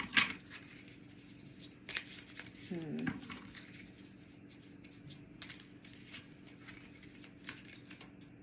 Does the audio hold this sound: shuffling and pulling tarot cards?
yes